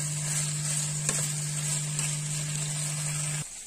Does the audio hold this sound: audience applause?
no